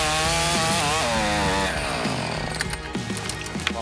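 Chainsaw cutting wood while a tree is felled: a loud, steady motor drone with rising and falling pitch, continuing throughout with scattered cracks and bumps toward the end.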